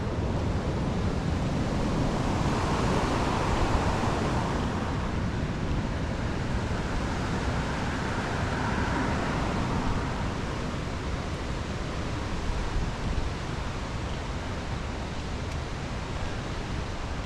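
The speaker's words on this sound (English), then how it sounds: "That river's popping." A mountain river running high rushes in a continuous, full roar, with some wind buffeting the microphone, steady throughout and not very loud.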